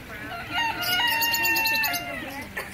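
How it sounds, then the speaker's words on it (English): A chicken at an aquarium gives loud, close, drawn-out crowing and clucking calls with rising and falling pitch, set against steady background crowd noise. "Is that a chicken?"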